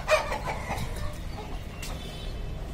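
Bantam chickens clucking at a farm with goats and sheep nearby, a few soft clucks and calls over a steady outdoor background noise.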